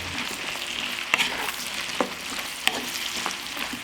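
Button mushrooms fry in butter with garlic, giving a steady, close sizzle broken by a few sharp clicks of stirring, with no voices.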